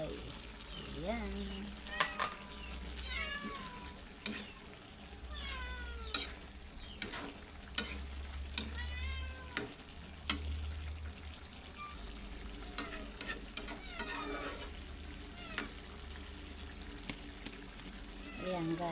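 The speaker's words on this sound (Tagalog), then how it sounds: "ihalo ko na yung aking malunggay" Malunggay leaves are stirred into a simmering coconut-milk vegetable stew (ginataang gulay), with soft repeated stirring and a faint bubbling sizzle under a low background hum and occasional cat meows.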